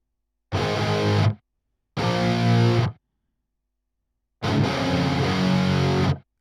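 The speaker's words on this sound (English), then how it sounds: "what sort of metal song wouldn't have big distorted guitars? So that's what we did. So we've quad tracked the same thing 4 times" Heavy metal guitars, the same part quad-tracked four times into a wall of distortion, crash in three thick, loud chord blasts, two short and one longer, each cut off abruptly by silence.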